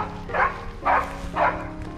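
A dog named as a man's devoted companion barks three times in an even rhythm, each bark clear and moderately loud against a steady indoor background with no talking.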